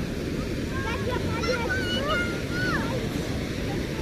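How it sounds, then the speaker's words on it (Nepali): Waves wash onto a shore with a continuous low, rushing roar and some wind buffeting, while people talk and call out excitedly over it. "Nice wave."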